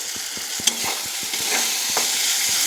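Spices sautéing in a pan sizzle steadily while a utensil stirs and scrapes in repeated taps and strokes, close and moderately loud, with no talking.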